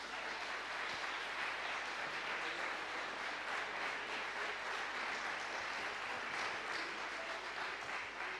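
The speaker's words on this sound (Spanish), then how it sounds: "Un aplauso para él." Steady audience applause at a Music Day celebration in Spain's National Library, a dense, even wash of clapping held at moderate distance throughout without any talk.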